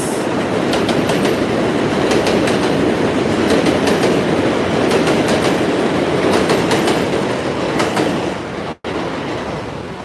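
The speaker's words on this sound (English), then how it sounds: "And there goes the Manhattan bound F train" A Manhattan-bound F subway train rumbles loudly and continuously overhead near Avenue X station, wheels clattering in rhythmic bursts for about ten seconds before a sudden brief dropout.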